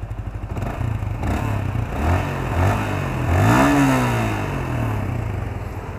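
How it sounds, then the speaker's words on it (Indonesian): A 2019 Yamaha All New Vixion motorcycle engine revs up and down several times, its stock exhaust giving a fairly deep, throaty tone close by, with no voices. "Suaranya cukup ngebas dibandingkan dengan Yamaha Saber kalau pakai knalpot standar."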